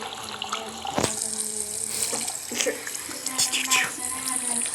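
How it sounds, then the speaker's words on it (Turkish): A shower runs in the video game Among Us, a steady hiss of falling water under faint background voices and a few brief game sounds. "bak duş alma yapmışlar"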